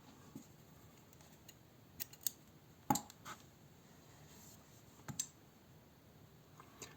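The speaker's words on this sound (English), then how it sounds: "And now cut yarn" Scissors snip crochet yarn close by: a few quiet, separate clicks spaced over several seconds, with one sharper snip standing out in near silence.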